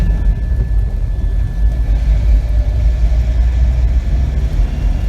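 A 2021 Force Gurkha SUV's 2.6-litre diesel engine drones steadily in third gear from inside the cabin, a loud continuous low rumble with road noise and no talking.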